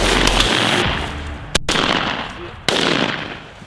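Two sharp, loud shotgun blasts about a second apart during a quail hunt in the outdoors, each a sudden broadband crack over steady rustling field noise.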